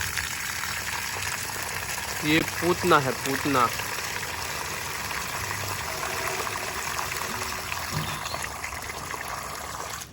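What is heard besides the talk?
watering garden plants with water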